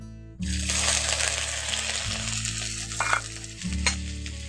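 Chopped ginger hits hot oil after cumin and bursts into loud, steady sizzling, with a few stirring scrapes and a low hum underneath.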